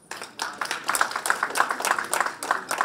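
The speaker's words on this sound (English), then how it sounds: "Let's again give him a big applause" Audience applause at a special event held during the 63rd session of the UN Commission on the Status of Women; the clapping builds from scattered, distinct claps into a fuller, fairly close round that continues to the end.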